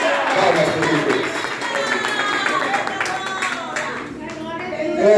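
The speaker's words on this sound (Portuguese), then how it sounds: "Palmas para Deus." A church congregation claps hands together during a lively worship service, a fast, crowd-wide rhythm of palms with voices rising over it, loud and close, easing slightly before swelling again.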